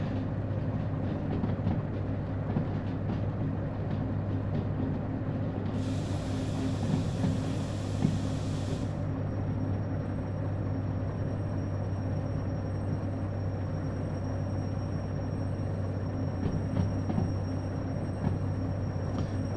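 A freight train in the Derail Valley simulator rolls along at the harbor while its brakes are applied, giving a steady low rumble and drone with a brief high hiss partway through and faint clattering, no talk.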